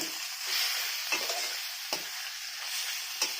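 Taro leaves frying in a pan with hilsa fish head, a steady hissing sizzle with a few soft stirring knocks, close and moderately quiet, no speech.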